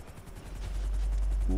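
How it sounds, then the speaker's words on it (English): A helicopter in the GTA video game throbs with a fast, steady rotor chop inside a broad roar that grows louder over a brief moment. "Just a random helicopter."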